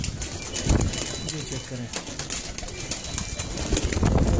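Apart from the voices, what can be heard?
pigeons of various breeds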